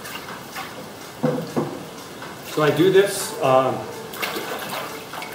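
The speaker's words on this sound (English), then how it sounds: "until the water has run out of the sheet of paper" Water drains from a papermaking mold holding coffee-sack paper pulp, a soft trickling and splashing that comes in bursts beneath a person's talking.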